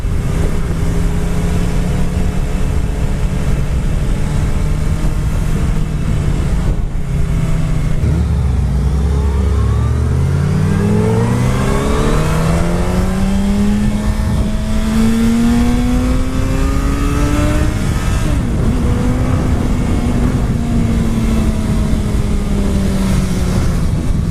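A 2019–2020 Suzuki Hayabusa sport bike engine winds up hard under acceleration, its pitch climbing steadily through the gears. Loud, close, continuous roar with wind rush and no talking.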